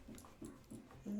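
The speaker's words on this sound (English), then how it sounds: "This is my dog, Pixel." Dog making soft, repeated short whimpers and yips, four brief faint whines spaced evenly, close by in a quiet room.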